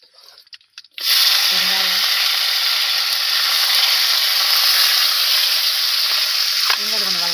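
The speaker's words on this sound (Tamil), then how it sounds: "எல்லாத்தையும் நம்ம வந்து இப்போ வதக்கிடலாங்க" Cinnamon, fennel and curry leaves sizzle loudly in hot oil as a chicken dish begins, a steady close frying hiss that starts abruptly and carries on without a break, with a brief voice sounding faintly beneath it.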